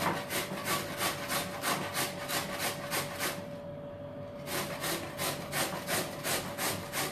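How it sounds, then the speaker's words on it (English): A carrot is grated by hand for homemade sauerkraut, making rhythmic, rasping strokes in a steady back-and-forth pattern with one short pause midway. The grating is close and clear, with no voices. "you're just shredding, grating, whatever you want to call it, the carrot"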